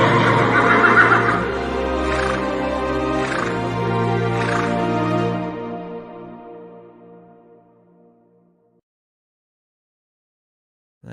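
A sound-effect horse neighs loudly in a long, wavering whinny with several pulses. It then fades out into near silence.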